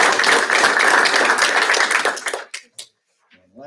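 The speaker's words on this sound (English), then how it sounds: "So a round of applause for her." Applause at a school district board meeting: a dense, steady round of clapping from a room of people lasting about two and a half seconds, then cutting off to a few scattered claps and quiet.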